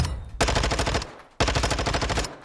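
Two rapid bursts of automatic gunfire in Modern Warfare 2 while testing weapon recoil, each about two-thirds of a second of sharp repeated shots, loud and close, separated by a short pause.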